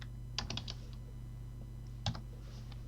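A few short bursts of computer keyboard typing on a desktop setup, quiet and close, with brief clusters of keystrokes separated by pauses over a steady low hum.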